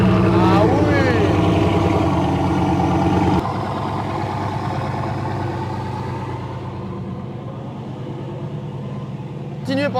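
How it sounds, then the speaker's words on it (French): Bugatti Veyron supercar engine running steadily nearby in a London car collection, a loud continuous low rumble that drops slightly in level after a few seconds, with people talking over it. "pendant que la Bugatti Veyron fait du bruit"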